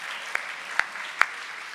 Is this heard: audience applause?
yes